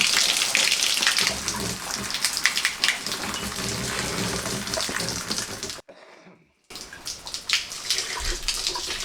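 Water draining from house plumbing pipes, a loud steady rushing splash like a running tap that cuts out briefly near the end and then resumes, close and continuous with no voices.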